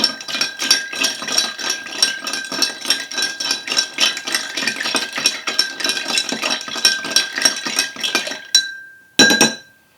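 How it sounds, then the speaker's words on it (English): Ice clinks rapidly against glass as a honey old fashioned cocktail is stirred, with a dense, steady rattle of spoon and ice that is loud and close, stopping briefly near the end before one last burst. "And you're going to want to stir this cocktail."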